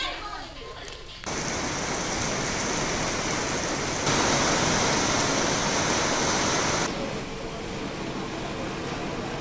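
Heavy rain pours in a dense, steady roar in Ahmedabad amid strong wind and thunder, swelling louder partway through, then easing slightly, with no voices.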